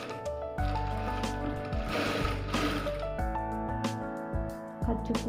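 Sewing machine stitching the lining of a blouse, running steadily close up with a dense mechanical whir and rattle, with brief pauses and restarts near the end.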